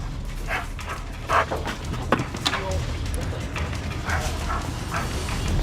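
A police dog, Tyro, whines and pants close by during a search, with short whimpers and yips scattered over rustling and a handler's voice talking.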